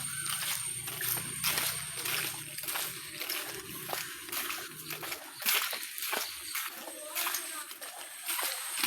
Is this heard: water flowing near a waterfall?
yes